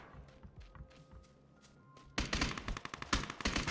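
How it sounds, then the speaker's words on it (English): Rapid bursts of gunfire in PUBG, with faint scattered shots at first, then loud, dense automatic fire for the last second and a half. "This man shooting at me."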